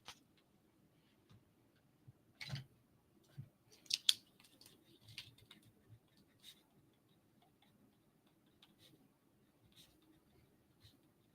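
A pen writes on paper in a quiet room, faint scratchy strokes and light taps coming in short irregular bursts, close but soft, with long near-silent gaps and no talking.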